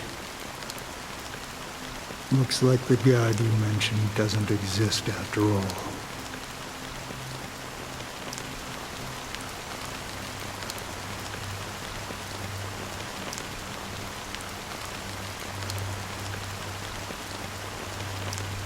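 Steady rain falling in Honkai: Star Rail, a soft continuous patter throughout, with a voice speaking over it near the start.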